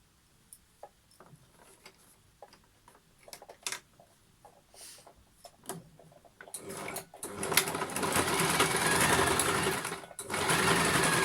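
A sewing machine runs a straight seam while a small keychain coin purse is stitched together. Scattered soft clicks and handling come first, then the motor whirs loudly and steadily in longer bursts, close by with no talk.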